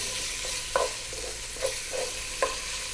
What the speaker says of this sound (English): We're now going to drop in 1 cup of onions. We're going to drop in the garlic ginger paste or your chopped garlic